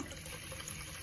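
Water pours onto rice being rinsed in a short, quiet splashing gush, close by and unaccompanied by speech.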